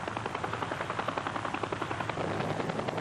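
Military helicopters arriving at a marked pickup zone during an airmobile operation; a loud, steady rotor drone with fast rhythmic blade chop fills the clip continuously, with no voices.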